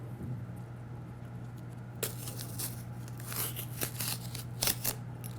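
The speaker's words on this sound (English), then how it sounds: "And now we're going to take the tape off." Tape peeled from a glass light bulb being made into a terrarium, heard as a few soft tearing, crinkling rips in the second half over a steady low electrical hum, close and fairly quiet.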